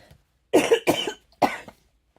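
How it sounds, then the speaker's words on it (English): Three sharp coughs from an adult indoors, close and fairly loud: two in quick succession, then a short pause and a third, with silence around them. "I'm sure you're all tired of my coughing."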